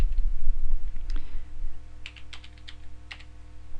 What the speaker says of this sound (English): I can type in a name